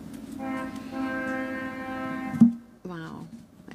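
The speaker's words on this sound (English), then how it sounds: "That train is really honking." A train horn honks in a long, steady, moderately loud blast, followed by a second shorter sounding, with a person talking throughout.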